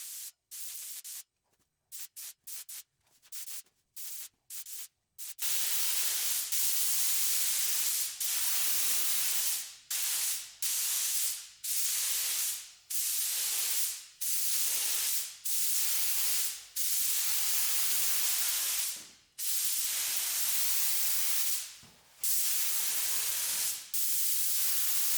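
A spray gun paints the body of a BMW E30 with a turbocharged M50 engine, giving long loud hissing bursts one after another with short gaps, after several quick clicks and brief sprays at the start.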